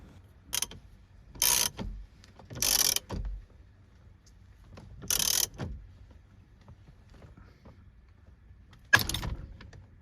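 A steering wheel puller on a Lexus IS 300 being turned with a 19mm socket, a series of short, close ratcheting clicks and mechanical bursts separated by pauses in a quiet space, no one speaking.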